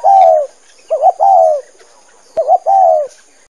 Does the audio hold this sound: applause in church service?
no